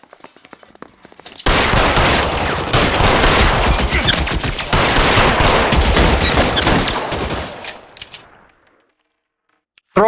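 A sustained burst of loud, dense gunfire in a shootout in the L.A. Noire video game, rapid overlapping shots lasting several seconds, then fading to a few scattered sounds and brief silence.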